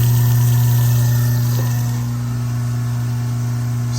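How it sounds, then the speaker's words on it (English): An InSinkErator Badger garbage disposal running in a kitchen sink with water, a steady loud motor hum and whir with constant low drone throughout. "seems to be running"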